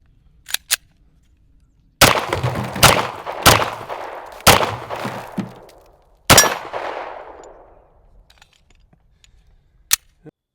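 A Sig P250 9mm pistol fires about six sharp, loud shots at uneven intervals, each followed by a short echoing decay, with faint clicks in between.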